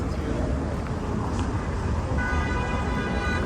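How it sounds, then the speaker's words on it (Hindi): Car horns honk in busy Las Vegas street traffic, several toots over a steady roar of passing vehicles, with voices talking nearby. "कितने हॉर्न।"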